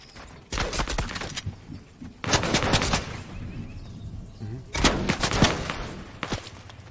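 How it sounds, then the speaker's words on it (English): Gunfire from a Fortnite match comes in three or four loud bursts of rapid shots separated by quieter gaps, with a player's voice faintly mixed in. "Whoa! Somebody shooting at me."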